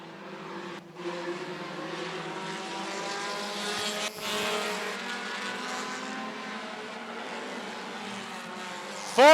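Race cars in a bandit feature at Rockford Speedway roar steadily around the oval, a continuous loud engine drone with brief swells as cars pass close by.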